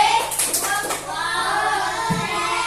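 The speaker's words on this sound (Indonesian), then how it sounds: "Yang sudah kalau udah benar, ayo tepuk, kasih tepuk." Classroom clapping as an elementary school class applauds a group, a steady patter of many small hands close by, with voices mixed in underneath.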